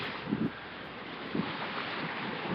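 Steady wind of 15 to 20 knots rushes past a microphone on a sailboat at sea, with a low, constant roar of moving water beneath, a few soft thumps breaking through.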